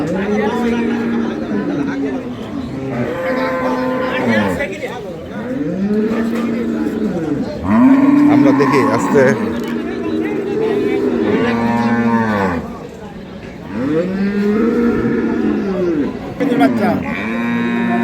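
Dairy cows with calves moo repeatedly at a cattle market, long low drawn-out calls from several animals, overlapping with a busy crowd's chatter and nearby talking.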